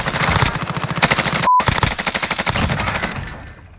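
Rapid automatic gunfire from a Fortnite match, dense bursts of rhythmic shots filling nearly the whole stretch with a brief gap midway, then trailing off at the end.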